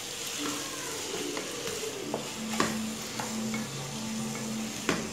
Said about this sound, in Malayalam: ചിക്കൻ ചേർത്ത് കഴിഞ്ഞ ശേഷം നന്നായിട്ടൊന്ന് മിക്സ് ചെയ്ത് കൊടുക്കുക.